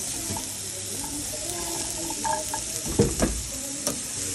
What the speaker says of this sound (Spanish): freímos poquitito cebolla para que agarre sabor